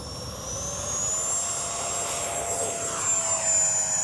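An E-flite 64mm Viper RC jet takes off with a loud, steady ducted-fan whine, its high tone sustained and slowly shifting in pitch as it accelerates.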